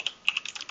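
Typing a cd command on a computer keyboard at a terminal, with a quick run of about eight sharp, close key clicks in an uneven rhythm, heard alone.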